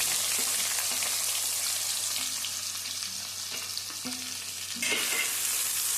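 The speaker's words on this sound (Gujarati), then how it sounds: "આ ડુંગળીને આપણે સાતળવા દેવાની છે થોડી." Chopped onion frying and sizzling in oil in a pan for a Gujarati brinjal dish, a steady close crackling hiss with occasional stir clatters, no talking.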